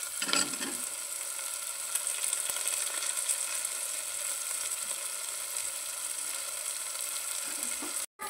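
Potatoes and vegetables fry for masala rice in a hot pan, a continuous, even sizzle heard up close for several seconds without talking, cutting off abruptly at the very end.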